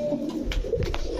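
Pigeons cooing at a market selling Danish, Modena, Beauty and Racer breeds, a close, low, continuous burbling coo over a dense background.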